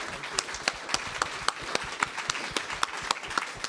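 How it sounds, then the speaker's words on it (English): An audience at a faculty presentation gives a round of applause, heard as a steady wash of clapping with distinct individual claps popping out in an irregular rhythm, moderately distant and with no talking over it. "can we have another big round of applause for Paul Stopforth?"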